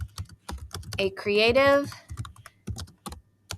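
Soft keystrokes on a computer keyboard tap out a prompt in an irregular patter, while a voice speaks over part of the typing.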